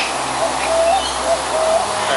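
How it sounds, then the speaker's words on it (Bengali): A male spotted dove calls close by with soft, repeated cooing notes over a light hiss of background noise. "ছেলে পাখি মেয়ে পাখির পাশে মাথা নাচিয়ে অবিরাম ডাকে।"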